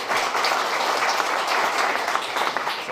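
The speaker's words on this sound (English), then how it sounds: "Let's give them an applause" Audience applause for panelists at a business panel on regional trade, a steady dense clapping that fills the whole stretch at an even level with no voices over it.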